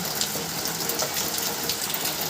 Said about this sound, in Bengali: আর এই হলো বৃষ্টির অবস্থা।